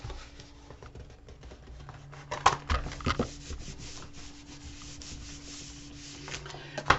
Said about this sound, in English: I want to go ahead and glue the sides down.